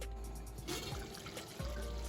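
Bean cooking water pours into a simmering aubergine and field bean curry, a soft close trickle and splash lasting a couple of seconds with no talk.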